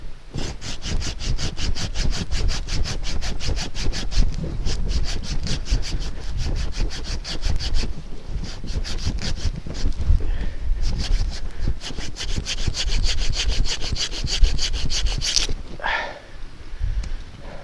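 A Bahco Laplander folding saw with its standard blade cuts through wood in rapid, rhythmic back-and-forth strokes, loud and close. The strokes come in steady bursts with brief pauses, then stop near the end.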